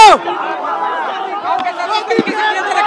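A large protest crowd at Jantar Mantar chatters and shouts, a dense murmur of many voices filling the scene, with someone speaking close over the noise.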